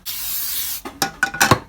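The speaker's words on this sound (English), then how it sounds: "Lightly coated spray." Cooking spray hissing onto a pan in a kitchen, one steady spray burst of close hiss followed by several short clicks and rattles from the can and pan.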